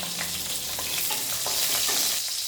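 Panch phoron and four green chillies spit and sizzle in hot oil in a wok, the start of a spinach ghonto, a loud, close, continuous crackling hiss with no talking.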